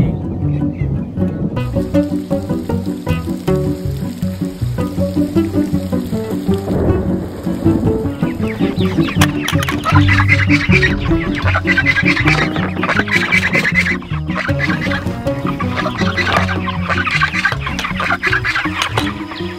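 Cornish cross chickens on a farm clucking during a thunderstorm, their calls scattered over heavy rain and rumbling in the background.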